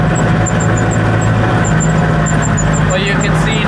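Farm machinery squealing for want of grease, a thin, repeated high-pitched chirp over a steady low engine-like rumble and general outdoor noise around a dairy farm pasture.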